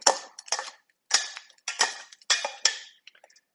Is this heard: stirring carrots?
yes